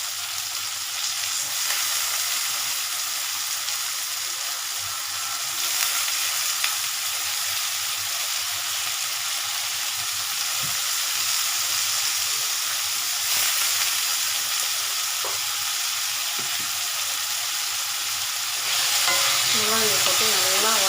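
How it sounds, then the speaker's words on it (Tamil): Radish pieces sautéing in oil for radish sambar, a steady broad sizzle and hiss with occasional stirring scrapes, continuous and fairly loud from start to finish, swelling slightly near the end. "முள்ளாங்கி போட்டு நல்லா வதக்கணும்."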